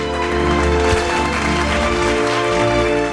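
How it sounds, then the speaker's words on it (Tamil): An audience claps warmly for a child prize winner at a Tamil children's show ceremony. The applause is dense and sustained, mixed with steady background music. "ஒரு உற்சாகமான கைத்தட்டல்களோடு வாழ்த்துக்கள் பரந்தாமன்."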